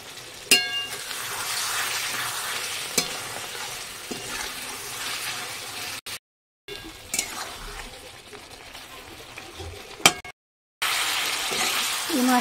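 Fish frying in a thick paste of garlic, mustard and poppy seed with cumin, a steady hissing sizzle up close, broken by spoon stirs and clinks and two short silent gaps.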